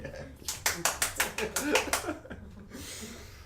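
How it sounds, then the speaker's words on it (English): A small live studio audience claps at the start of a podcast recording, about ten sharp, rhythmic claps in quick succession, close and distinct, tapering off into brief talk and laughter. "You have to clap."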